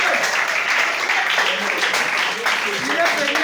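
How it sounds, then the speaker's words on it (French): Congregation applauding for the witnesses during a church service, a dense wash of clapping and cheering filling the whole moment, with voices mixed in. "Acclamez pour les témoins."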